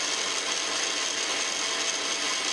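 KitchenAid stand mixer running on high while whipping cream, a steady dense whirring motor drone with bright broadband hiss, constant and close throughout.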